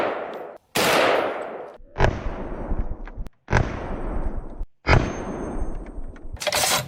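An M82A1 rifle fires at an outdoor range: five heavy, booming shots spaced about a second apart, each cracking sharply and then rolling off in a long echoing decay.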